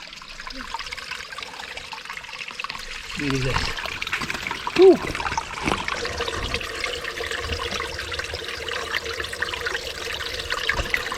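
Water trickles and gurgles steadily at the source of a river, close by, while someone speaks briefly over it.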